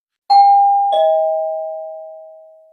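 Notification bell sound effect: two bright, clean chimes a fraction of a second apart, the second tone slightly lower, each ringing out and slowly decaying into silence.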